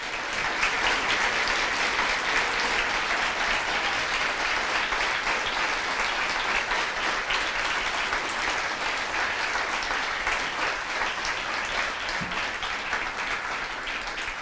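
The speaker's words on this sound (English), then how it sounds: "we were going to go crazy at the end with a round of applause and cheers and everything" A large audience at an Academic All-Stars 2015 event breaks into a loud, sustained round of applause with cheering, dense and steady for the whole stretch with no talking over it.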